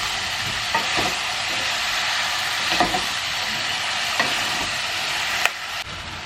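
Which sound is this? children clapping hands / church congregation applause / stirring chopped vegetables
stirring chopped vegetables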